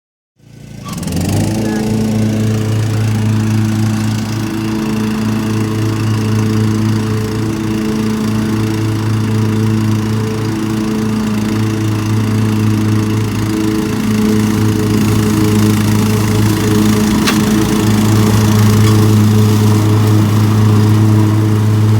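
A lawn mower engine runs steadily and loud, close by, with a constant droning hum that starts abruptly and holds for the whole stretch with no talk over it.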